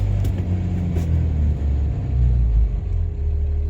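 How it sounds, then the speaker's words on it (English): A Cummins diesel truck engine in for repair idles with a heavy low rumble, swelling briefly as it is revved and then settling back, steady and close with no talking. "I'm gonna rev it up to about 2 and then let off."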